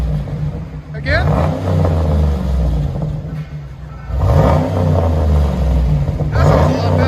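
A Chevy Silverado/GMC Sierra 6.2L V8 revs hard twice, deep exhaust rumble swelling and falling back to a throaty idle, loud and close.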